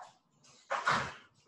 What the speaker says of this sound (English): My dog's barking, but it's okay.